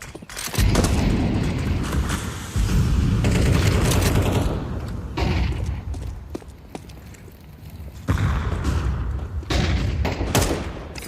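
Counter-Strike match between 3DMAX and Heroic, with a dense mix of game explosions and gunfire: sharp booms, rapid bursts and repeated thuds in several loud clusters, with brief quieter gaps between them.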